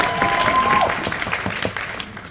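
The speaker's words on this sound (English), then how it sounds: "give yourself a round of applause for who you are" A convention audience applauds, a full close wave of clapping that fades toward the end, with a few faint voices underneath.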